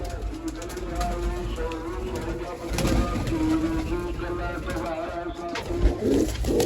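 Pigeons coo in low, repeated rolling calls close by, a steady throaty murmur with a louder stretch partway through and faint background noise.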